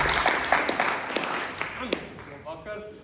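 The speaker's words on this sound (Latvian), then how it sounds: "Lūdzu, ar aplausiem." Audience applause at a concert of student compositions, a scattered patter of clapping that fades, with talk over it.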